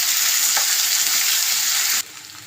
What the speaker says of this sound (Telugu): ఇప్పుడు అరటికాయ ముక్కలు వేసుకుందాం. కొంచెం పసుపు వేసుకుందాం. ఇది కలబెట్టుకోవాలి.